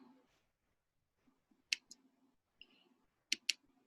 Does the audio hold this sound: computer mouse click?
yes